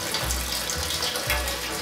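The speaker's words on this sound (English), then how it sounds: "we're going to go ahead and sparge with a half gallon of 150 degree water" Half a gallon of 150-degree water is poured over grain in a colander for homebrew sparging, a continuous gushing splash with low sloshing surges, steady and close.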